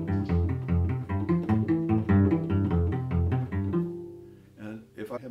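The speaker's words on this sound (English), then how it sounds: "In the Ravel Quartet, we're required to play very quickly pizzicato" Fast pizzicato on a string instrument, plucked with thumb and first finger used like a plectrum, for a passage in the Ravel String Quartet: a quick run of close, resonant plucks that slows and thins out toward the end.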